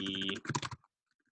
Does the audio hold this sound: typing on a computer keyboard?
yes